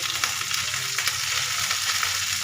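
Food frying in a pan with turmeric powder added, a steady close hiss of oil with faint stirring scrapes on top, continuous and fairly loud without any voices.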